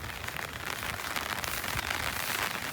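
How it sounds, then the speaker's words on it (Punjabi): Steady rain falls on flooded farm fields, a dense even hiss with no break, moderately loud and close, with no voices over it. "ਤੇ ਮੀਂਹ ਦੁਬਾਰਾ ਸ਼ੁਰੂ ਹੋ ਗਿਆ ਫੇਰ"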